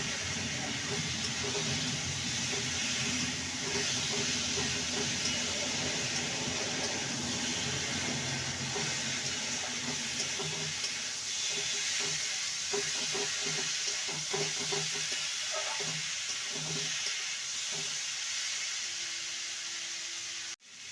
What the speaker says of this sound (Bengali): সেদ্ধ করে রাখা ওলকপি আর আলুকে দিয়ে দেব মশলার সাথে ভালো করে কষিয়ে নেব